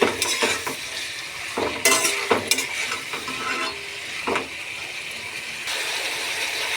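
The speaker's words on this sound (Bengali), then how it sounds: "এবার আমি এখানে একটা কড়াতে আমি তেল নিয়ে নিয়েছি, তেলে আমি এটা পুরোটা আমি দিয়ে দেবো" Spice paste stir-fried in hot oil in a kadai gives a steady sizzle, broken by repeated scraping and stirring bursts from a utensil against the pan, close and fairly loud.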